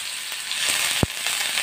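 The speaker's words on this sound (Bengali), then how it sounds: "তেল আমার গরম হয়ে গেছে। এবারে আমি দিয়ে দিচ্ছি এখানে গ্রেট করে রাখা আদা।" Grated ginger hits hot oil in a pan, producing a dense, bright, steady sizzle with a single sharp pop near the middle, close and continuous, with no voices.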